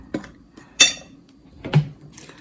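Bourbon ball mixture being stirred with powdered sugar in a bowl, three separate clinks and scrapes of a utensil against the bowl, close and fairly quiet.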